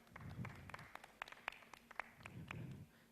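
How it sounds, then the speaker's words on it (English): Applause from the audience at an economic summit in Uganda, faint and distant, a scattered patter of individual claps with sharper nearer claps standing out, rising and easing over about three seconds. "A round of applause to that"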